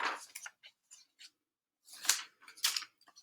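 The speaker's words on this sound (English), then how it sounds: "Chop, chop, chop. Len cut the plants off and let Fred out" Scissors snip at plants in a series of crisp, close cutting sounds, a few quick clips followed by a pause and then two louder, fuller snips.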